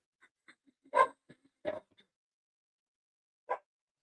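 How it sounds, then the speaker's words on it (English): Dogs on a residential street bark in a few short, sparse bursts. The barks sound quiet and somewhat distant, with long silent gaps between them. "They start barking at him like all the way down the end of the street."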